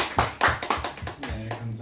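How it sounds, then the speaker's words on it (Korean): A church congregation at a Sunday worship service claps in welcome, a short burst of several quick, close hand claps that fades into a voice beginning to speak. "박수로 환영하겠습니다."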